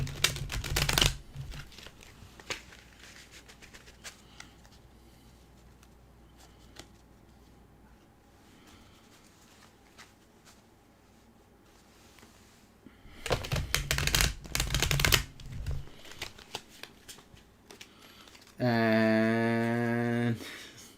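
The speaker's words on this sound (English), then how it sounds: "I can't look at chat while I'm shuffling." Tarot cards being shuffled, with bursts of riffling and snapping cards near the start and again later, separated by quieter handling, then a brief loud tonal sound at the end.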